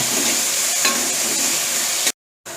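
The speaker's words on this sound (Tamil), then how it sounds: "நம்ம இப்போது தக்காளி கொஞ்சம் சேர்த்துக்கலாம். கையோடு அதையும் நம்ம ஒரு வணக்கிக்கலாம்." Chopped tomatoes sauteing in a pan for a South Indian fish gravy, a loud continuous sizzle with a stirring scrape, close and steady, cutting off briefly near the end.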